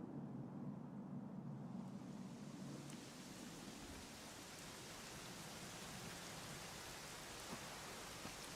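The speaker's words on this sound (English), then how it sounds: "it was raining like this the last time I ever saw her" Steady rainfall in the video game Dragon Quest, a constant hiss of rain on surfaces with a low rumbling tone early on, faint and unbroken.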